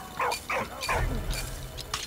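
Walt the dog barks in the video game Valiant Hearts: three quick close barks in a row followed by softer yips and rustling, fairly loud and without talk.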